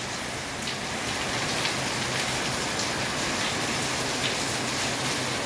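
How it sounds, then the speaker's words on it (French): Heavy rain pours steadily during a thunderstorm, a dense continuous hiss of water hitting surfaces and gutters with scattered nearer drips, no voices. "En ce moment, il pleut abondamment."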